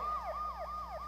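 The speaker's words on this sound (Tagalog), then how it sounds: "Ayan na, may wangwang." A police siren wails in a rapid, repeating up-and-down pattern nearby in the street, steady and fairly clear, with no voices over it.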